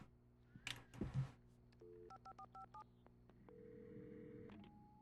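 In the video game Alan Wake, a telephone beeps through a quick series of keypad dialing tones and then gives a steady tone, with a short noisy burst before it and no talking.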